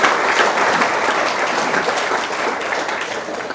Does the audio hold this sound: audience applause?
yes